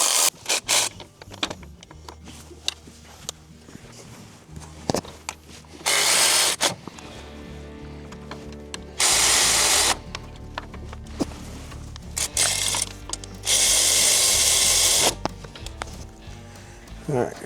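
Bolts being snugged up with a ratchet on an engine air compressor of an MCI D4505 coach, with close bursts of rapid clicking and grinding separated by shorter scrapes and rubbing.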